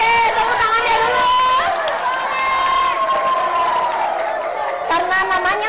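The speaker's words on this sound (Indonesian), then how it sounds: "Oke, tepuk tangannya dulu." A school audience at a Ramadan event in Ternate cheers loudly, with high shouting voices and clapping blending into a continuous crowd roar that swells again near the end.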